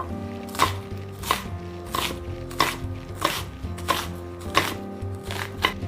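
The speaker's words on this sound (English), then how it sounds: "we're just gonna dice an onion and slice our carrots" A knife dices an onion and slices carrots on a cutting board, a regular series of firm chopping thuds about every two-thirds of a second over faint background hum, without speech.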